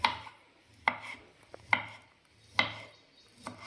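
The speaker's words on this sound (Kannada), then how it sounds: "ಇದನ್ನ ಚಿಕ್ಕ ಚಿಕ್ಕ ಪೀಸ್ ಮಾಡ್ಕೊಳ್ಳೋಣ" A knife chops dragon fruit into small pieces on a cutting board, five sharp, distinct taps spaced almost evenly apart in a quiet kitchen.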